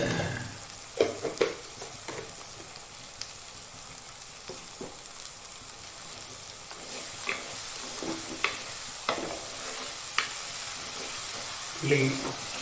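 Small onions sizzle and fry in a pan for a Kerala-style fish curry, with a steady hiss running throughout and occasional louder scrapes and stirs of a spoon against the pan.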